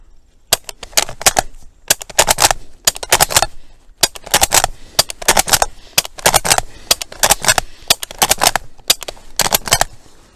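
Repeated sharp metallic clacks of a bolt-action rifle bolt being worked quickly by palming, in quick grouped bursts of clicks with short gaps, close and crisp with no talking.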